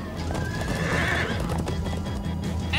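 Horses in the Minecraft Story Mode video game neigh with a rising whinny while hooves clip-clop steadily beneath, loud and close, with no talking.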